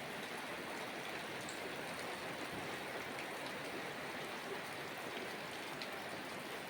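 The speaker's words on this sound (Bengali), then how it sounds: "এই দিকে দেখতেই পাচ্ছ বন্ধুরা বৃষ্টি আরম্ভ হয়েছে" Steady, faint rain falls continuously, a soft even hiss with scattered drops and no voices.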